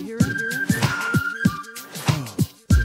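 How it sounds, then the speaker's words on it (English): A man whistles a melodic, wavering tune up close, with short breaks between phrases. "There's a man whistling"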